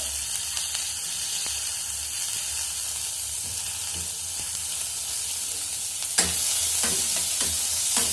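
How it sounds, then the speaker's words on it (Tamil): Onions fry in a pan until golden brown, giving a steady close sizzle with occasional stirring scrapes, and the frying grows louder near the end. "வெங்காயம் நல்லா கோல்டன் ப்ரௌன்ல ஆகட்டும்"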